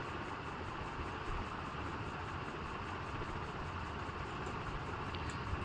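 A sewing machine runs a straight stitch along blouse fabric, a continuous low motor whir at an even level throughout, with no voices.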